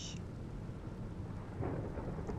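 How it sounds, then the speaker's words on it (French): Heavy rain falls as a steady broadband hiss throughout, with a louder surge of rumble near the end that fits distant thunder; no voices. "Il pleut vachement aujourd'hui."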